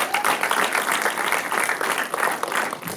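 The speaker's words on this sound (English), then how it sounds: "All right, hand of applause for High" Brief burst of audience applause during a film festival Q&A for short films, dense steady clapping from a crowd for a few seconds, with no talk over it.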